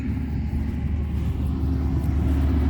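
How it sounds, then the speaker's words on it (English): A loud truck rolls past outdoors, a heavy, steady low engine rumble and road roar that holds for a few seconds and swells slightly toward the end. "Loud truck."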